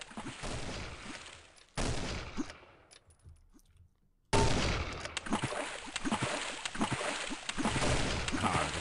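Gunfire in the first-person shooter Cube 2 Sauerbraten crackles in rapid bursts of shots, fading to near silence midway before a loud, dense volley resumes and keeps going.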